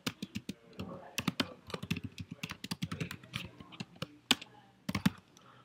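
Rapid keystrokes on a computer keyboard as Ruby code is written, clicking in uneven bursts with short pauses, close and clear with no talking.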